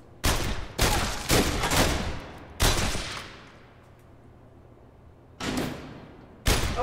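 Gunfire from guns in a VR shooting video game, heard as several loud bursts of rapid shots separated by short quiet pauses, close and alone with no talk.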